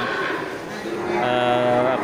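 A water buffalo calls at a busy livestock market, a drawn-out low moo rising out of steady crowd chatter and background noise.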